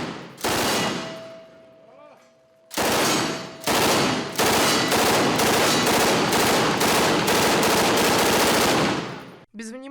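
Loud machine gun fire at targets, long sustained bursts of rapid shots with short gaps between them, plus a faint tone and a brief background noise during the pauses.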